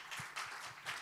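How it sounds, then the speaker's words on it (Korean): A church congregation applauds during a Sunday worship service, a soft, distant wash of clapping with faint low thumps. "우리 하나님께 감사와 영광의 박수 올려드리겠습니다."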